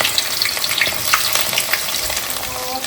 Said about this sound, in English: So I already put oil here. So let me put onion.